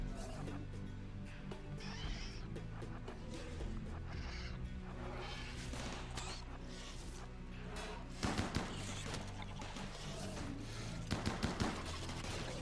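Deployable mini turrets firing in the video game RimWorld, rapid faint bursts of gunfire under a busy game soundscape, with a few sharper clusters of shots toward the end.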